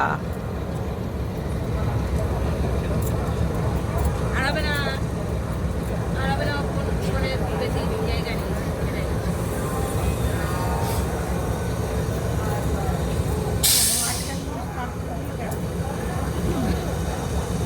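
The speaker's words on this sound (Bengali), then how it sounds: "এই হাওড়া ছেড়ে দিচ্ছে ধীরে ধীরে।" The Black Diamond Express eases slowly out of Howrah station with a steady, close rumble of the train. Faint squeals and clatter rise now and then, and a voice speaks over the motion.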